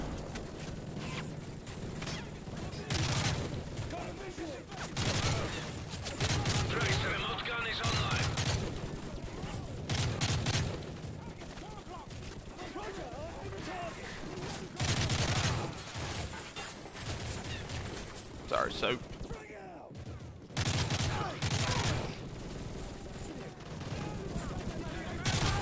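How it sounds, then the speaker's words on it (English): Sustained automatic gunfire and heavy machine-gun bursts in a Modern Warfare 3 campaign battle, loud and dense with crashing impacts, with voices shouting over the din throughout. "Those MGs are tearing us apart!"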